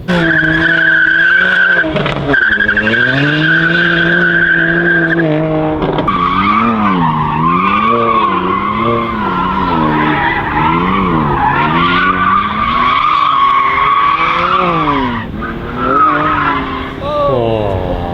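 A BMW M2 and another car warming their tyres before a drag race: a loud, continuous engine roar with revs that rise and fall in waves and tyre squeal over it, close and steady for the whole stretch.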